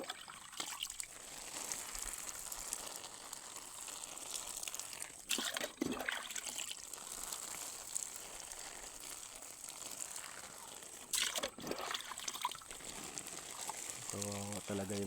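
Water is poured onto pechay plants during garden watering, a soft trickling and splashing with a couple of brief louder gushes, faint and close, while someone talks over it.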